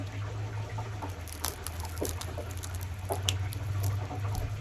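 Faint crackling and crunching of crispy deep-fried turkey wing skin being bitten, scattered small crisp snaps over a low background hum.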